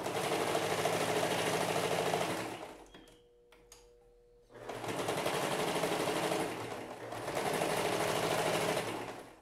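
A sewing machine stitches a fabric placemat in two long bursts of rapid, even whirring and needle chatter, with a short pause of quieter clicks between them, close and clear with no talk.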